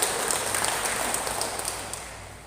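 A crowd claps steadily, a dense patter of applause that slowly fades over a couple of seconds.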